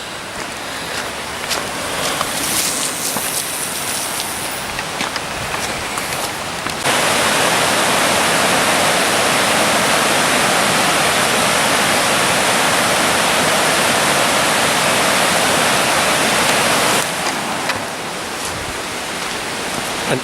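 A river runs past a leafy, popular walking path in autumn, its broadband rush steady and close, swelling louder for about ten seconds in the middle before easing back.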